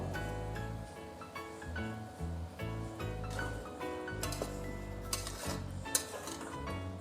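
Vegetable biryani masala being stirred in a pot as turmeric and curd are mixed in, with steady scraping and clinking of a spoon against the metal pot, light sizzling underneath, and a couple of sharper clanks near the end.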